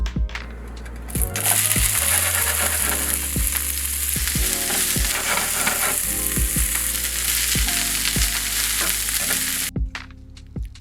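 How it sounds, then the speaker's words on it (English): Loud, steady sizzling of broccoli frying in a hot pan, with periodic scraping and stirring knocks from a utensil, cutting off abruptly near the end. "Stand by for some satisfying sizzle."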